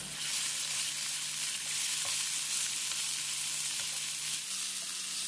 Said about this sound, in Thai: ใส่หมูบดลงไปผัดให้เข้ากันครับ